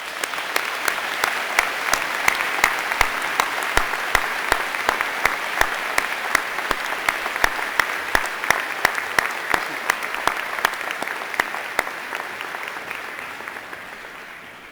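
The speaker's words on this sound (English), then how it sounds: "Please join me in another warm round of applause for all of our graduates." An audience at a University of Winnipeg spring convocation ceremony applauds its graduates, a long, sustained wave of clapping in a large hall, steady and moderately loud, slowly fading toward the end.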